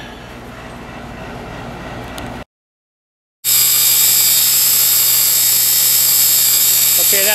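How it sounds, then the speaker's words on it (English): A steady, high-pitched electrical buzz from a damaged alternator on a 7th-generation Toyota Celica GTS drones loudly, cutting out for about a second before returning stronger and continuing unbroken. "that buzzing sound you hear is the alternator. It's damaged."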